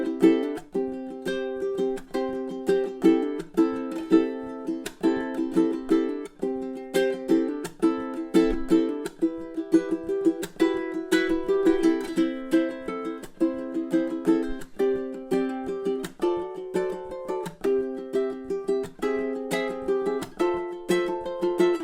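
A ukulele plays a cheerful tune alone, with steady strummed and plucked notes in a bouncy, continuous rhythm at close range for about twenty seconds.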